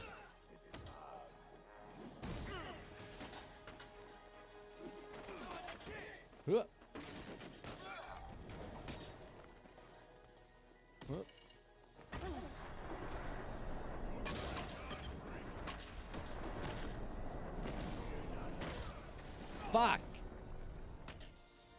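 Gunfire in the video game Batman Arkham Knight, sharp scattered shots and bursts mixed with crashes and impacts over a busy game soundscape, with a person talking over it.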